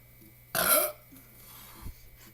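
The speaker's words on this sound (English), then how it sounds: "She has to burp when it comes." A single loud, close burp during a burping contest, a short rasping belch lasting under half a second, followed by quiet room tone.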